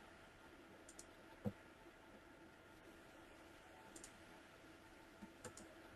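A computer mouse double-clicking in an office software demo: a few faint, isolated clicks scattered over a quiet hum, with one sharper click standing out.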